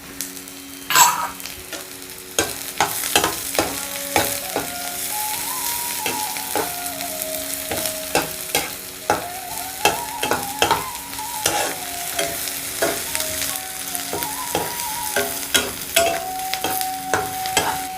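Sliced onions browning in hot oil, with a busy crackling sizzle under rapid, rhythmic spatula scrapes and clinks against the pan, close and fairly loud throughout.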